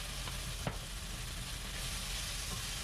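Soybean paste stir-fried with sesame oil in a home kitchen pan, giving a steady broadband sizzle throughout with a faint scrape of stirring near the start, close and alone.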